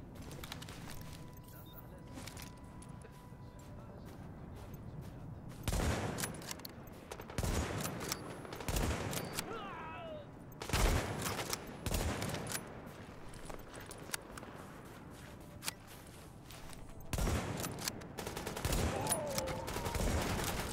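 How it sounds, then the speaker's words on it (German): Gunfire in the video game The Division, several separate loud bursts of rapid shots spaced out over quieter stretches, with someone talking between them. "Läuft mal wieder richtig gut hier mit dem Schießen"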